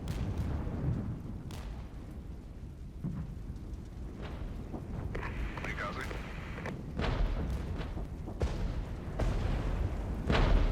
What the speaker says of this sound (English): We can also drop artillery illumination ahead of them on the right hand side here.